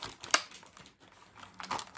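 Plastic packaging from a dollar store is torn open by its tear strip, giving short sharp crinkling rips close by, one burst early and another near the end, with quieter rustling between.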